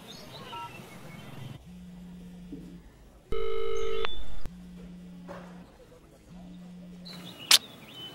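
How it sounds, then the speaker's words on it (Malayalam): A telephone being dialed, with a burst of DTMF keypad tones followed by repeated long ringback tones that go unanswered, plus a short chirp near the end, all fairly clear over a quiet background. "എടാ പരശു, പ്രിയങ്കയ്ക്ക് ഫോൺ ചെയ്ത് പുറത്തു വരാൻ പറ"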